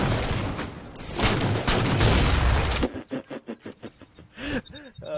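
Rapid bursts of gunfire from a video game shooter fill the first half loud and dense, then give way to talking voices with short pops in the background.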